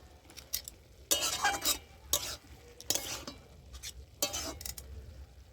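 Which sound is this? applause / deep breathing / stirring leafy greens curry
stirring leafy greens curry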